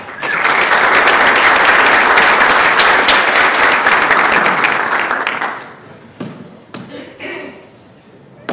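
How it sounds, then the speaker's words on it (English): Loud, dense applause from a conference opening-session audience fills the first five seconds as a speaker is welcomed on stage, then thins into scattered claps and room noise. "So please welcome him on stage with a big round of applause, Robert Bacarson."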